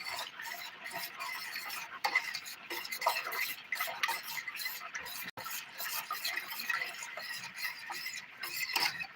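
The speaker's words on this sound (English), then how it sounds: "Use a spoon and give it a stir." A spoon stirs a simmering sweet and sour sauce for chicken wings, giving a steady close scraping and clinking with small sharp ticks throughout, over low bubbling.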